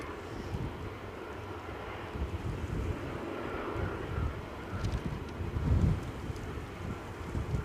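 An ATR turboprop airplane landing at Edinburgh Airport, a broad distant engine roar mixed with gusty wind buffeting the microphone, steady and moderately faint with no talking.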